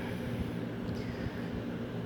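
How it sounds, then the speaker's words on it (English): A constant low whirring hum of a fan running nearby, steady and unchanging throughout, with no voices. "I'm sorry about the fan, but it's hot in here."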